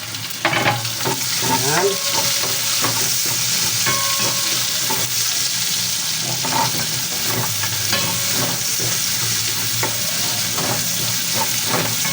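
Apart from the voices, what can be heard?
sautéing garlic and onion in pan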